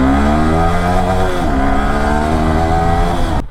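A Yamaha R15 V3 motorcycle engine revs loud and close, its pitch dipping briefly mid-burst and then climbing again, with no one talking.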